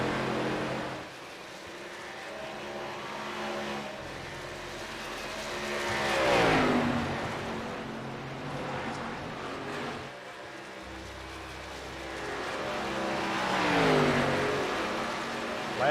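Race cars roar past in the final championship race of the season at Texas, engines swelling loud as each passes close by and then fading, with a steady drone of distant cars between the passes.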